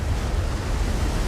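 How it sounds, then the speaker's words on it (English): A tsunami rushing in over a beach bungalow, heard as a loud, steady roar of surging water and wind-like rumble throughout. "The tsunami rushes in,"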